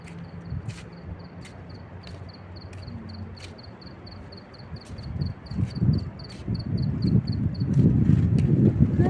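Wind blowing outdoors at night in Kuwait, a steady rushing noise that builds louder toward the end, with a faint repeating insect-like chirp pulsing in the background; no voices.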